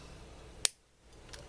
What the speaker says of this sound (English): Let me cut this shorter.